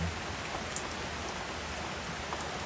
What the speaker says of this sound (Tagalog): Ayan, umulan dito sa amin.